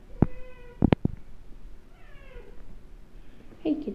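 A house cat meows two or three times in quick, clear cries at close range, followed by softer chirping mews in a quiet room.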